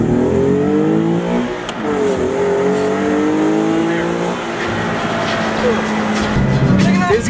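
Nissan 370Z launching hard from a standstill in a 0 to 60 acceleration run, its engine note climbing loud and steady through several gear changes with a brief dip between shifts, voices talking over the roar.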